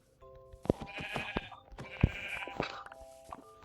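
Sheep in the Minecraft video game bleat twice in short, clear calls a little over a second apart, close and fairly loud, with game sound effects in between and no talking.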